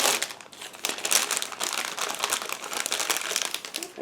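Steady crinkling and crumpling of a plastic bag holding plastic model kit sprues being opened up close, continuous rustles with sharp crackles and no voices.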